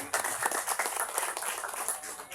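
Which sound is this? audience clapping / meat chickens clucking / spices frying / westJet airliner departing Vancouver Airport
audience clapping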